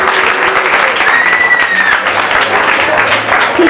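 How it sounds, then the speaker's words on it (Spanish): An audience claps in a lecture hall, a dense burst of applause close by that holds steady for several seconds, with voices faintly mixed in. "Eso, un aplauso."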